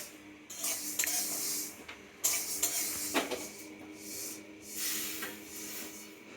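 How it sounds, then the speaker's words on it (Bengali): Mustard seeds popping and spluttering in hot oil as spices fry for a vegetarian dish, with irregular crackles and brief sizzling bursts close by, no talking. "সর্ষেটা যখন ফুটতে শুরু করবে ওই যে এক একটা করে ফুটতে শুরু করেছে"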